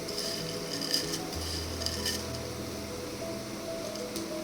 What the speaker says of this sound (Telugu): ఆనియన్స్ని ఇలా క్రిస్పీగా వేగించుకోవాలి.